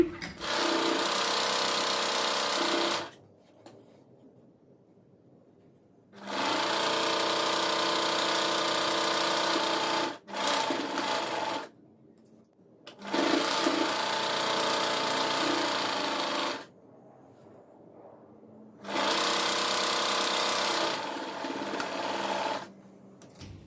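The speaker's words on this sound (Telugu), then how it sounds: "ఇలా ఇంకా రెండు కుట్లు కూడా వేసేసేయండి" An electric sewing machine stitches blouse sleeve side seams in four long, steady runs of rapid whirring, each followed by a quiet pause, close up with no voices.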